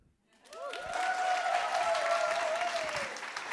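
Audience applause breaks out after a slam poem at the European Slam Poetry Championship final in Košice, rising quickly to a steady, dense wash of clapping that holds for several seconds, with a brief tonal voice or whistle line running over it.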